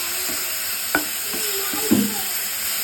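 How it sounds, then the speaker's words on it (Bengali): Spices with tomato and green chillies fry in a pan for a boal fish curry, giving a steady close sizzle with a few sharp stirring scrapes and clinks. "এবার মশলাটাকে আবার ভেজে নেব।"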